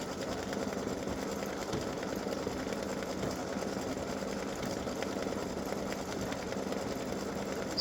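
An embroidery machine stitches freestanding lace dog paw earrings, producing a steady, fast mechanical whirring and rapid needle chatter that runs unbroken and close throughout.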